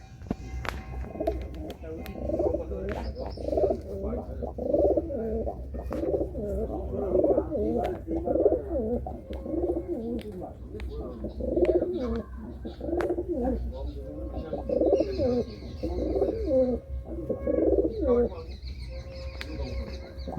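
Pigeons in a loft in Chandipur, Medinipur, including Madrasi and Punjabi breeds, coo continuously in soft, overlapping rolling calls close by, with someone talking faintly at times.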